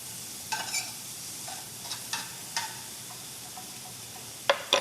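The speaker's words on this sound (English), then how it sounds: "I'm just going to stir in my cheese while this is cooking up" Cheese being stirred into pierogi filling as it cooks, a soft low sizzle broken by a few spoon scrapes and clinks against the pan.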